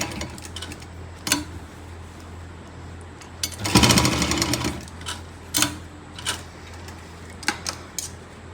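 A sewing machine stitches palazzo pants in short bursts, with a longer loud run in the middle and several brief stitching spurts before and after, close and alone.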